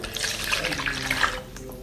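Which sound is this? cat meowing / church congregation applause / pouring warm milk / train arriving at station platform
pouring warm milk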